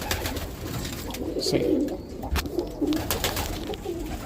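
Birmingham roller pigeons coo softly over a few seconds, giving brief murmuring calls close by against a low background hum. A voice is faintly present.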